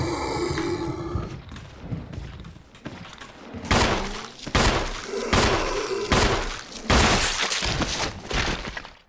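Gunshots from Resident Evil 1 HD, fired as Chris on hard difficulty, landing a headshot on an enemy. Several loud sharp blasts come from about four seconds onward, over a rumbling game background, with no talk.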